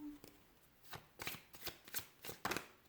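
Tarot cards being shuffled and drawn by hand, a series of soft close riffling bursts in an uneven rhythm, quiet, with a voice speaking faintly.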